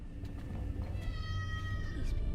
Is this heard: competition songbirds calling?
no